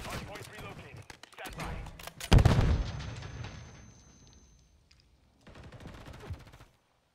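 Assault rifle gunfire in a Call of Duty Hardpoint match on the Vista map, with crackling bursts of shots, a loud thump in the middle, then a quieter rattling burst near the end, with voices talking in between.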